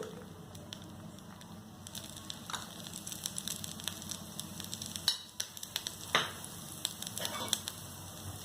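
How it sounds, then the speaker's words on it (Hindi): Egg paratha frying in vegetable oil on a pan gives a steady, close sizzle with crackling pops and occasional scrapes from a spoon pressing the bread. "अब हम इन पराठों के ऊपर डालेंगे कुकिंग ऑयल यानी कि वेजिटेबल ऑयल।"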